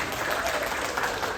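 An audience at a summer church retreat lecture claps together in a dense, steady burst of applause that stays fairly even from start to finish.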